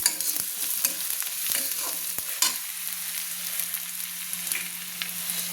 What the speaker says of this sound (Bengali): মশলাগুলোকে আমি তেলের মধ্যে ভালো করে কষিয়ে নিচ্ছি